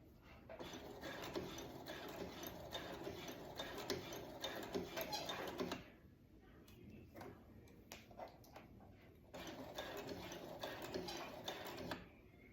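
A sewing machine stitches in two long runs of rapid, steady mechanical whirring, separated by a quieter pause with light handling clicks.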